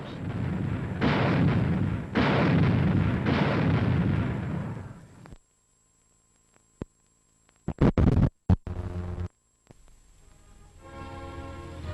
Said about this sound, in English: On practically the push of a button, she can spot attacking aircraft, track it, and automatically aim and fire.